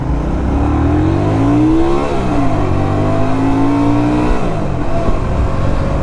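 A Hyosung GV125 Aquila 125cc cruiser motorcycle engine revs up close, pitch climbing, dropping briefly at a gear change, then rising again as it pulls through the gears.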